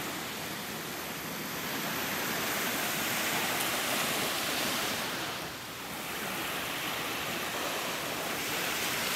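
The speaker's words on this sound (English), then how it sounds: "the sights and the sounds of our beautiful beach at this award-winning Florida State Park" Waves washing onto a beach at a Florida State Park in North Naples, a continuous loud roar of surf with gentle swells and some wind, no voices.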